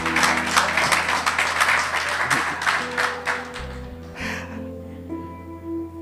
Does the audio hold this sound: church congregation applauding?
yes